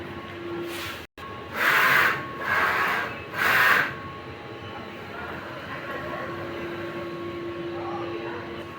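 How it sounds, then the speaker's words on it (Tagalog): A sublimation printer running a nozzle test: three short whirring passes of the print head in a row, each about a second, over a low steady machine hum. "Nozzle test."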